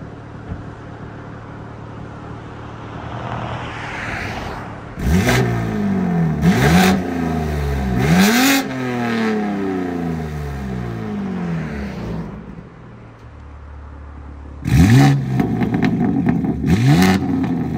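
Loud revs from a BMW G82 M4 fitted with a new aftermarket exhaust, valves open: several sharp throttle blips climb and fall in quick bursts, with crackles between them and a steady idle underneath.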